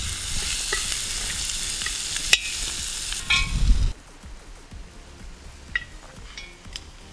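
Macaroni sizzles in a kazan over an open fire, a steady broadband frying hiss broken by stirring scrapes and clinks, loud for the first few seconds and then dropping to a softer crackle.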